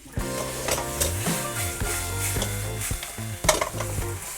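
Sauce for Korean fried chicken (kkanpunggi) sizzles in a frying pan while a utensil stirs and scrapes, with clanks of metal against the pan and a bubbling, crackling hiss throughout.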